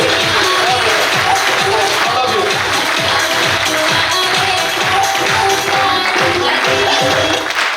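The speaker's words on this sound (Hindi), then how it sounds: "पूरी इनकी टीम के जोर तालियां बजाता हूं, जोर तालियां हरि जी की हो।" Applause from an audience at an awards and speech event in a hall, continuous dense clapping that holds steady and loud throughout, with crowd noise mixed in.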